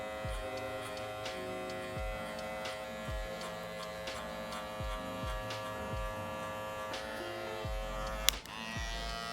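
Electric hair clippers with a 3 guard debulking hair in a barbershop taper fade, running as a steady close buzz that dips and shifts rhythmically with each pass through the hair, ending with a brief sharp knock.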